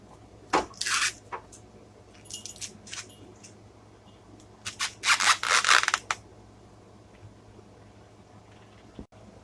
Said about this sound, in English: let's husk this corn